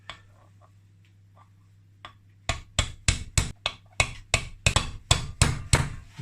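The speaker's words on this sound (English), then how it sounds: "If you hear the sound of the noise I'm banging it in" After a quiet hum, a hammer starts tapping a bearing into a Yamaha YZ engine bottom end in a steady series of sharp, close metal knocks, about a dozen strikes in quick rhythm.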